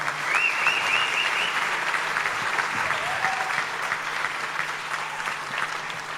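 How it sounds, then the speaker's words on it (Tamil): A seated audience at a drum music school event applauds young child drummers with loud, steady clapping that lasts about six seconds and eases off slightly toward the end. "நல்ல பலத்தை கரகோஷம் கொடுங்க அவங்களுக்கு."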